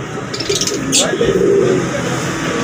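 A Zeera pigeon coos softly in a low, sustained murmur at close range, mixed with someone talking over it and some bright background noise.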